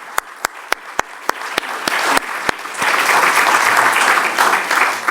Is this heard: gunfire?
no